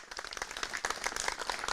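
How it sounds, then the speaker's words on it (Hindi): Applause and clapping from a studio audience on a farm-advice television stage, welcoming livestock experts; dense, steady clapping through the whole short stretch, with no voices over it. "तालियों के साथ स्वागत करते हैं"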